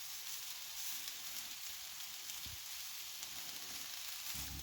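Fried rice with cold rice, ham and vegetables sizzles in a pan, a soft, even crackling hiss heard close but faint, with light stirring bumps near the end.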